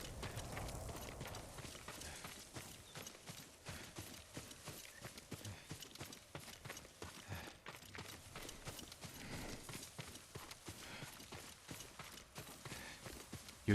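Hooves of a horse in the video game Ghost of Tsushima clip-clop steadily and fairly close, a continuous walking rhythm running the whole time with no talk over it.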